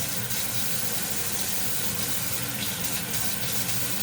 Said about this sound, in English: I would just dip it into the water like this